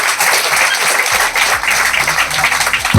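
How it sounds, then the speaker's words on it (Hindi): A church congregation claps and applauds at a Hindi-language Christian worship service, loud sustained clapping from many hands filling the room throughout. "ताली बजाओ प्रभु यीशु के लिए"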